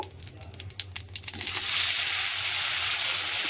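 Boiled gathi kochu (taro) hits hot oil with cumin, a few crackles giving way to a loud, steady sizzle that fills the rest of the moment, close up and with no talk.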